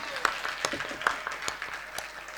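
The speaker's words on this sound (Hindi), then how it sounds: "ताली बजाइए।" Audience clapping at a Hindi poetry recital in Gonda, Uttar Pradesh, a light, steady patter of many hands with scattered sharper claps, moderately quiet and without talk over it.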